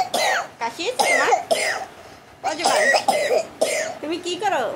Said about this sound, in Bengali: কাশি হয়েছে তোমার?